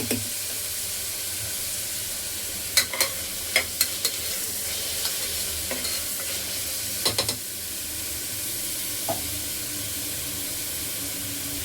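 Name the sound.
onion frying with ginger garlic paste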